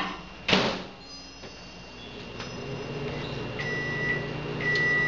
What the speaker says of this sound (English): pop those in the microwave.